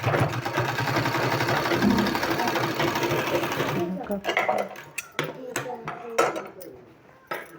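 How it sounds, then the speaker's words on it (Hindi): A sewing machine stitches a strip onto a sleeve, whirring steadily for several seconds before giving way to scattered knocks and handling clatter, with someone talking throughout. "इसको इस तरह से इसमें सिलाई लगाना है।"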